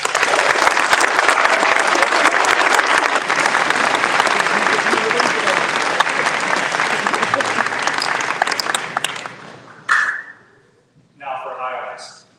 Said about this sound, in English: A round of applause for all honors recipients.